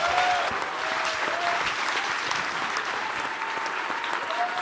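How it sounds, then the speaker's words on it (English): Live audience at a baseball talk event giving a sustained round of applause, dense and even, with a faint voice speaking over the clapping in the background. "Big round of applause."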